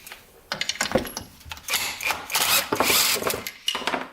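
Wrench work on a bolt, about 12 millimeter, on the shift side of a Suzuki RM125 dirt bike: a close run of quick metallic ratcheting clicks and rattles in bursts, moderately loud, with no talking.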